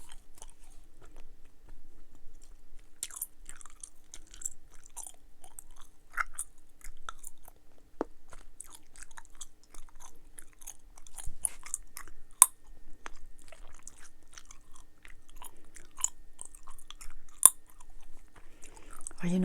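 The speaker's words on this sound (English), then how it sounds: "Let's see if this is a snapping gum." Dubble Bubble watermelon and strawberry bubble gum is chewed close to the microphone, with soft, irregular wet smacks and occasional sharper snaps and crackles spread across a quiet background.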